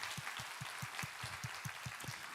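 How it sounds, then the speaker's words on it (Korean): A church congregation at a Sunday sermon claps together in a steady rhythmic beat, roughly four to five claps per second, forming an even, sustained wave of unison applause. "우리 하나님께 감사와 영광의 박수 올려드리겠습니다"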